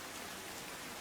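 Heavy monsoon rain pours down on waterlogged streets in the Katargam area of Surat, a brief, steady wash of dense rain noise, fairly faint, with no voices.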